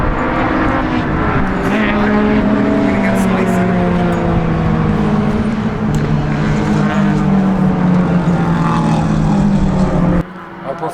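A small racing kart engine at an endurance race buzzes loudly and steadily close by, its pitch rising and falling as it revs, cutting off abruptly near the end.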